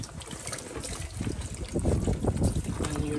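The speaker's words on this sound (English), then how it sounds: "you're supposed to rinse both front and back actually, you're not just rinsing one side" Moimoi leaves rinsed front and back in water, a close splashing, trickling wash that grows louder toward the end.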